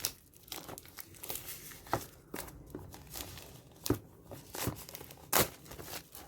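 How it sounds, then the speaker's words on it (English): Plastic protective film is peeled and crinkled off a Z79 Max smartwatch box, close crackling and tearing bursts in irregular bursts, fairly quiet with no talk. "let's remove the plastic cover here"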